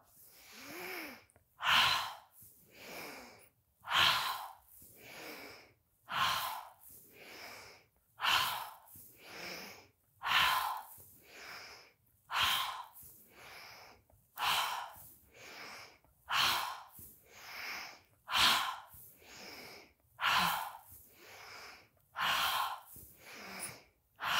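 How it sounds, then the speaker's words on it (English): Repeated forceful audible exhales during a kundalini yoga flow, about fifteen sharp breath bursts in a steady rhythm, close and loud, each followed by a brief quieter inhale, with no talking. "So again, audibly exhale with me."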